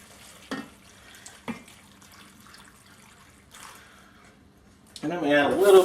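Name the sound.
water poured into a crock pot slow cooker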